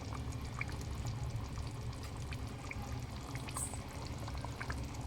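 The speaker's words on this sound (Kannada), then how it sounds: "ರಾಜ್ಮಾ ಮತ್ತು ನೀರು ಎರಡನ್ನೂ ಹಾಕ್ತಾಯಿದ್ದೀನಿ ನಾನು" Cooked rajma and water poured into bubbling, boiling masala in a pan, a steady close sizzle and pour with splashing liquid throughout, no talking.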